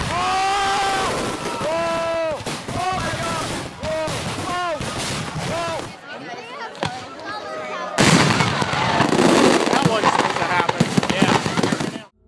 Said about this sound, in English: This resulted in fireworks firing horizontally into the crowd,